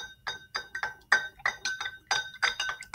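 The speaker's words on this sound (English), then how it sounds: "But we're just going to give it a good old stir." A spoon stirs a salt and pepper mixture in water inside a glass jar, giving quick, repeated clinks against the glass in an uneven rhythm, close and fairly loud with no talk.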